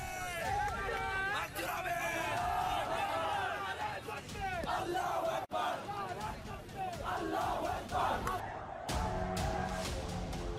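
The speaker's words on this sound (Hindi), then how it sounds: "नाराए तकबीर लगा दिया।" A large agitated crowd shouting the Takbir slogan in unison during a communal confrontation in Bangladesh, loud rhythmic chanting voices over dense hubbub that continues for several seconds.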